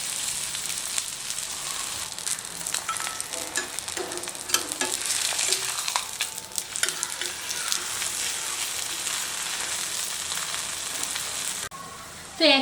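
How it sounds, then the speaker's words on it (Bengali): Aloo paratha frying in already hot oil in a pan, a dense continuous sizzle and crackle that stays loud and close throughout, with a brief clatter near the end and no talk. "আবার আমি আরেকটা পরোটা নিয়ে তেলের উপরে দিয়ে দিচ্ছি"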